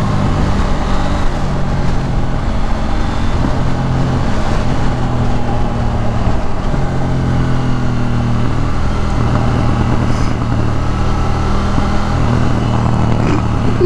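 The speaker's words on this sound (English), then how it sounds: "It's fucking, it's got to be one of the best sounding stock exhausts" A KTM Duke 790 motorcycle with its stock exhaust being ridden on a road, its engine a loud, steady growl that rises and falls through gear changes, with wind noise throughout.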